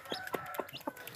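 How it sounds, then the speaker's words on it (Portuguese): A free-range hen clucks to her chicks while showing them food: four soft, evenly spaced clucks, quiet and close. "Ela faz um timbradinho diferente quando tá mostrando a comida, né?"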